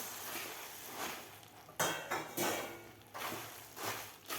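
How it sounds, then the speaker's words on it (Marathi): Puffed rice being stirred quickly into hot jaggery syrup in a pan with the gas off, giving repeated scraping clinks of a spoon against metal with a few louder knocks, close and clear without talk. "मुरमुरे घातल्यानंतर आपल्याला पटपट व्यवस्थित मिक्स करून घ्यायचं आहे"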